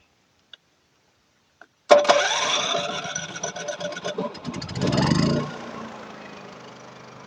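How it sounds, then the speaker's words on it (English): After two small clicks, a portable generator for an RV air conditioner cranks and catches, settling into a loud steady running rumble with a brief surge before its note drops and smooths out near the end. "We're going to fire up the generator, fire up the air conditioner with the soft start installed, and see if it bogs it down."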